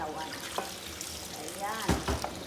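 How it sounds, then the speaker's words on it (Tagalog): Cooked laksa noodles are rinsed under a running kitchen tap, giving a steady splash of water close by. There is a couple of soft clunks near the end and a speaking voice partly over the water. "Lagyan natin yung noodles sa running water at ating panlawan."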